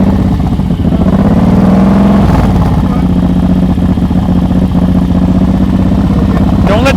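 A motorcycle engine drones steadily during slow-speed riding practice, a constant close rumble with small pitch shifts as the throttle is eased, while a person talks loudly over it throughout.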